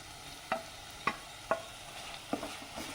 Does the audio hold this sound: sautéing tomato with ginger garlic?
yes